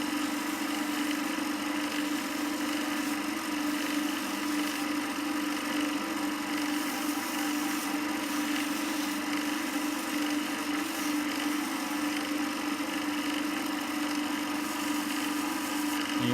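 Continuous steady rubbing of sandpaper on a cyanoacrylate glue finish, an even scratchy texture that runs without a break.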